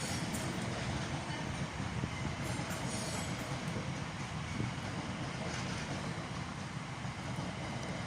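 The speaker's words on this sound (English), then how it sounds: "over here is the 1236 Great Western Railway service from here to Redhill" A Great Western Railway train at Reading station on the Great Western Main Line, heard as a continuous broadband rumble and roar of rolling stock, steady and fairly close throughout with no talk.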